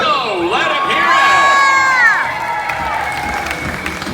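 A theme-park audience at the Fear Factor Live show at Universal Studios Florida cheers and shouts loudly, with high whoops and children's screams swelling then easing over several seconds.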